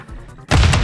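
Gunfire in Modern Warfare 3 search and destroy, a sudden loud burst at mid-clip after quieter game ambience, dense and booming with sharp cracks.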